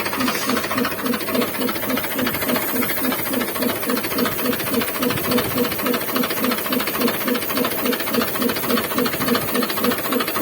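Pressurized hose on a tractor sprayer hissing steadily and loudly, with a rhythmic pulsing spray and the tractor engine running underneath, no talk.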